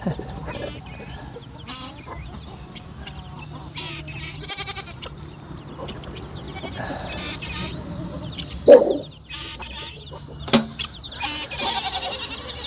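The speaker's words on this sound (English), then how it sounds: "The baby chicks are doing good." Free-ranging chickens and baby chicks cluck and peep around an outdoor property, a busy low chatter with a few louder, sharper calls standing out near the end.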